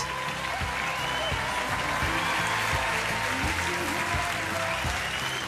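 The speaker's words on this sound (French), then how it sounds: "Je me sens bien avec toutes ces personnes-là qui m'applaudissent." A television talent show audition audience applauding, dense steady clapping from a large crowd filling the whole stretch, with faint voices underneath.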